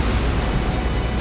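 Bombs from an airstrike in Trails of Cold Steel during a fortress tank battle, a brief, loud, steady roar of explosion rumble, close and with no talking.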